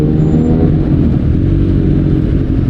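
From inside a car driving through heavy traffic comes a loud, steady, low engine and road drone, unbroken for a few seconds, with no talking.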